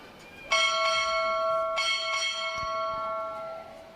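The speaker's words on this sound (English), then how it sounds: "Strike 4 bells." Ship's bell struck at a U.S. Navy boot camp graduation ceremony, two bright metallic clangs about a second apart with long ringing decay, loud and close in a large hall.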